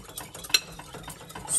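A spoon works sauce around a bowl in a quick series of soft scrapes and light clinks, close by and fairly quiet, with one sharper tap of metal partway through and no voices.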